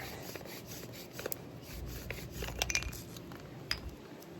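A bow drill spindle rubs against its fireboard under very light pressure while fire-making in the desert. It makes a faint, dry rasping that repeats in back-and-forth strokes, with a few sharper scrapes.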